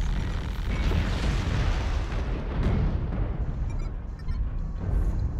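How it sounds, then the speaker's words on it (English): Long range missile explosions from the MechWarrior Online video game in a desert map, a continuous loud barrage of deep booming blasts and rumbling bursts overlapping without pause. "Somebody has long range missiles."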